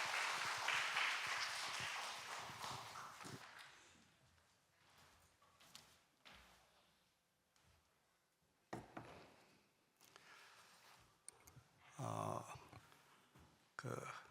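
A church congregation claps loudly at a Sunday worship service, the applause swelling briefly at the start and fading within a few seconds, followed by quiet room noise, scattered clicks and faint movement.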